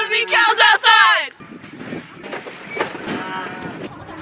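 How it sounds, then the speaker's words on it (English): Cattle mooing at a stockyard during a special FFA sale, one loud close moo up front, then a busy crowd of animals and general yard noise continuing behind it. "It's a cow farm! There's gonna be cows outside!"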